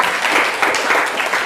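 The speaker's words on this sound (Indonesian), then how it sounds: "tepuk tangan buat kita semua ya" A class applauds, a brief, brisk patter of many hands clapping close together, fairly loud and without speech.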